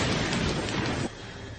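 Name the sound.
thunder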